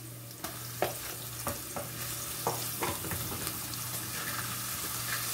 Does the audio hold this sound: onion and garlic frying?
yes